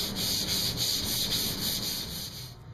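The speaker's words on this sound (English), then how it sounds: "So it's just a matter of hand sanding all this stuff right now." Cherry wood is sanded by hand, a close, continuous scratchy rubbing with a faint back-and-forth pulse that carries on steadily and fades slightly at the end.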